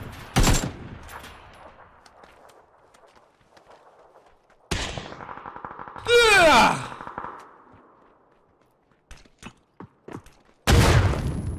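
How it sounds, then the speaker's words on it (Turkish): Loud explosive blasts in PUBG gameplay: sharp broadband bursts near the start, middle and end, separated by quieter gunfire-like cracks, with a descending whistling tone after the middle blast. "Ben nasıl tek yedim lan o bombadan? İçimde patladı ha."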